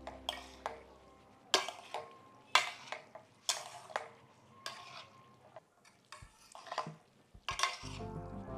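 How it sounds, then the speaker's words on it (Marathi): Cooked rice, eggs and masala are folded gently together in a pan for egg masala rice. About eight distinct spatula strokes scrape and tap against the metal at a slow, uneven rhythm, close and clear, with no voices. "आता भात, अंडी आणि मसाला फक्त हलक्या हाताने या प्रकारे मिक्स करा."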